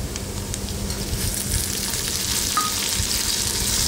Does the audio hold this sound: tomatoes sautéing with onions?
yes